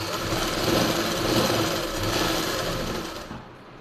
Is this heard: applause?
no